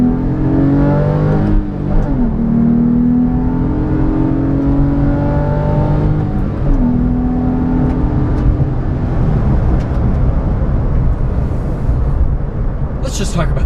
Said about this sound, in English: I'm gonna have to get on it a little bit here